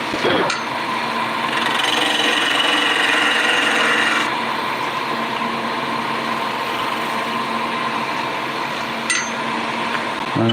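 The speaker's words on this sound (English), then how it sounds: "And we can start polishing and sanding." A wooden pinecone dragon egg is sanded on a spinning woodturning lathe, giving a steady, raspy rubbing hiss that continues throughout, loud and close.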